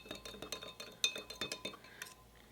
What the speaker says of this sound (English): And we'll give it a stir with a different spoon.